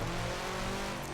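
A 2004 Subaru Impreza WRX STI slides across snow in the Forza Horizon 4 racing game, its engine drone and tire noise forming a continuous loud, dense wash with no pauses or talking.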